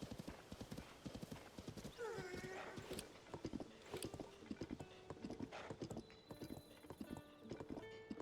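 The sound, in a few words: horse neighing and hooves in Zelda Tears of the Kingdom video game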